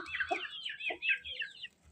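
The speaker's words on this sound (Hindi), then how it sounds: "यहाँ पर हमारी मुर्गियाँ हैं ढकी हुई, इनको मैंने नहीं खोला।" Hens and a rooster cluck and chatter inside a covered coop in a village, a close, busy run of short calls over two seconds with brief pauses.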